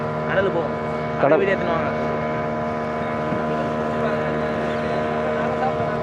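Steady hum of a boat engine on a short sightseeing ride off Pondicherry at sunset, with wind buffeting the microphone and someone talking over the drone.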